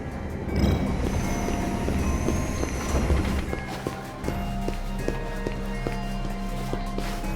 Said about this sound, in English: That's the third train, and that one stops around.